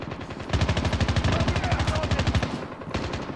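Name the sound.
machine gun fire in the video game COD Mobile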